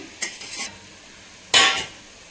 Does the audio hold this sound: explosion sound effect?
no